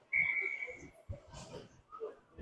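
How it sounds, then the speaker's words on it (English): A referee's whistle gives one sharp, steady blast of about half a second at a high school ice hockey game between Prior Lake and Eastview, followed by muffled arena noise and scattered thumps. "Double whistle."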